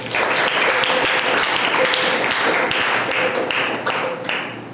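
A church congregation at a Sunday worship service in Kalahandi claps in praise, a dense, continuous burst of loud applause sustained throughout before easing slightly at the end.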